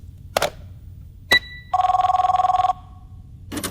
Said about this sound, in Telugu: అది ఫోన్ కాదు, ఫ్యాక్స్.